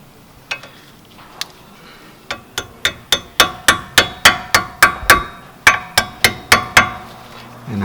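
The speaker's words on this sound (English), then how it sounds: "And with the little hammer, tap it in." Small hammer tapping a brake pad clip into place on the front brakes of a 2018 Volkswagen Atlas: a few scattered taps, then a steady run of about twenty sharp metallic knocks, close and distinct.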